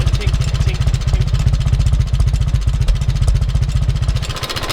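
Allis Chalmers WD tractor engine running steadily nearby, a fast even low chugging exhaust pulse with a faint repeated metallic tink riding over it, no talk.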